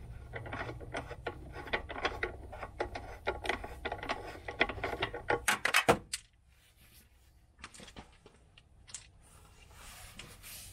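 A socket wrench ratchets on a car battery terminal during a battery change, a close run of quick clicking and rattling bursts for about six seconds, then quieter scattered clicks.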